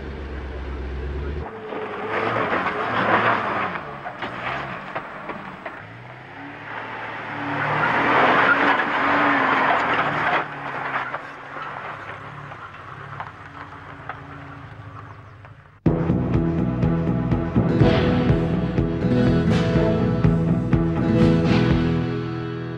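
A 4x4 off-road vehicle reverses and drives over rough terrain, its engine straining and revving with clattering and shifting load, becoming louder and closer in the last stretch.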